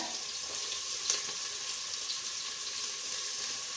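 Onions and green chillies fry in a pan with a steady, even sizzle that holds close and constant throughout, with no voices.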